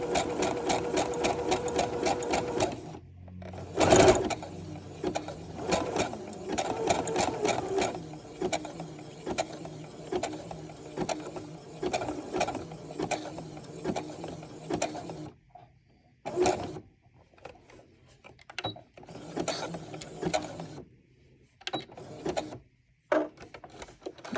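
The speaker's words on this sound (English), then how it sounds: "I'm just zigzagging over this edge to stop it from fraying" A sewing machine zigzag-stitches over the raw fabric edge of a petite dress, running in fast mechanical bursts of whirring and rapid needle clatter separated by short pauses.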